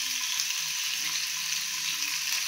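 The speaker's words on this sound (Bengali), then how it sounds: "দিয়ে তারপরে চিংড়ি মাছগুলো উল্টে দিয়ে একটুখানি, বেশিক্ষণ লাগবে না" Prawns fry in spiced oil in a pan with a loud, continuous, close-up sizzle that holds steady throughout.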